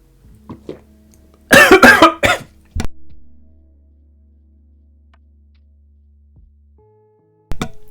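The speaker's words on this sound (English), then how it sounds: "You made me cough." A cluster of harsh coughs erupts close by, a few quick bursts followed by one more, then a long quiet stretch before a final short sound.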